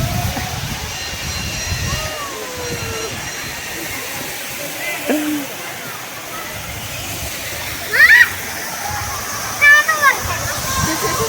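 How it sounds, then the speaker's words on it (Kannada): A small village waterfall at an old Chalukya-era pond pours with a steady broadband rush throughout, while people talk and call out nearby over the splashing water. "ನಮ್ಮೂರಿನ ಮಿನಿ ಜಲಪಾತ ನೋಡ್ರಿ ಫ್ರೆಂಡ್ಸ್ ನೀವು ಎಲ್ಲರೂ"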